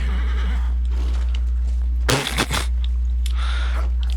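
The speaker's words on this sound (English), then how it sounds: "I swear the horse is sassing me" A horse whinnies once in the video game Dragon Age: Inquisition, loud and close, a short burst over a steady low hum, then quiet game ambience.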